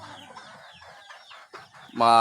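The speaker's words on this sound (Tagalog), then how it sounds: "Ito yung ating isang inahin." A hen on a farm, about to be bathed to break her broodiness, gives several soft clucks amid other chicken calls, ending in a louder burst of noisy squawking.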